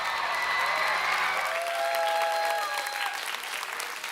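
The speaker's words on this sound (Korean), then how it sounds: "다시 한번 큰 박수로 격려해 주시기 바랍니다." Steady applause from a sizable church congregation at a mission report service, a dense wash of clapping that holds throughout before easing slightly near the end.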